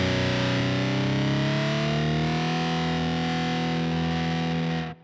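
A Keeley Octa Psi fuzz pedal at its longest pitch ramp: a thick, distorted guitar tone sustains and glides slowly upward in pitch for about five seconds, loud and alone, then cuts off abruptly.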